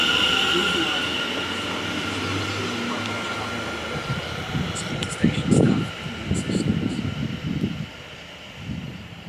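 A London Overground train rides between Leyton stations with a steady rumble of wheels on track and faint squeals, while people talk over the noise toward the end.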